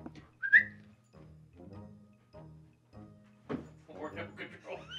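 A short, high whistle rings out near the start, followed by people talking and background sounds.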